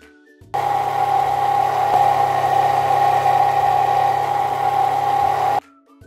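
A blender whirs through thick sea moss gel, its motor starting abruptly and holding a loud, steady whine for about five seconds before cutting off, with no voices.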